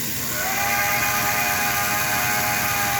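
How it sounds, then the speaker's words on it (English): A loud, sustained steam whistle from a model train, a steady hissing tone with layered pitches held for several seconds, close by and alone. "And then here is the whistle, steam whistle"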